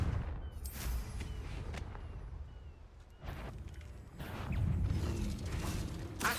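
The Confringo blasting curse fires in Hogwarts Legacy, an explosive burst that gives way to a rumbling, crackling wash and then a second heavy surge, loud and dense, with no talking.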